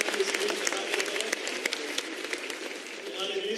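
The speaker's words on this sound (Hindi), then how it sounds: "एक बार जोरदार ताली बजाकर माननीय राष्ट्रीय अध्यक्ष जी का स्वागत और अभिनंदन" A crowd at a political rally in Jaipur applauds to welcome JP Nadda, with a busy rush of clapping from many hands mixed with voices, moderately loud and continuous.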